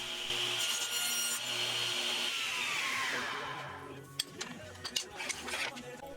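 Wooden rails of a scrap-wood crosscut sled being sawn to length in a workshop, a steady rasping cut for several seconds, then a few sharp knocks and scrapes of wood near the end.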